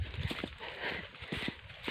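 A horse hauling a load along a rough, unpaved rural road, its hooves clip-clopping in an uneven rhythm close by amid rustling and scraping noise, with no talk.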